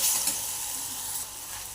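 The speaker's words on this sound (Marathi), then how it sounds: "कांदा टोमॅटो छान असा गोल्डन कलर येईपर्यंत आपण भाजून घेणार आहोत।" Chopped onion and tomato frying in a pan, a steady soft sizzle with light stirring scrapes, faint and close, no voices.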